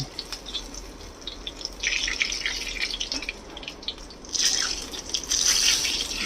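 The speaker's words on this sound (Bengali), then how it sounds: "বেগুনগুলো ভাজা হয়ে গেছে এবারে তেলটা একটু ঝরিয়ে এটাকে তুলে নেব" Hot oil dripping and trickling off fried eggplant pieces as they are lifted to drain, a soft, close, continuous patter of fine drips that swells in two brighter bursts.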